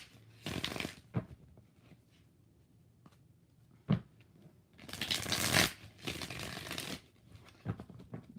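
Tarot cards riffled in bursts, a short shuffle near the start and a longer, louder one later, with soft handling taps and rustles in between, close up and without talk.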